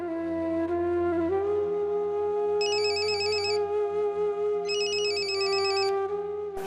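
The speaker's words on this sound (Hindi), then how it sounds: "किसका फोन है?" A telephone rings in two short trilling bursts over a steady sustained musical tone, fairly close and clear.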